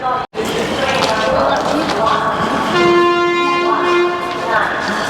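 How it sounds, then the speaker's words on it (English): Loud horn blasts sound repeatedly over a busy, noisy background in India on the way to a train, including one long sustained toot in the middle, with voices talking throughout. "There's a lot of beeping of horns"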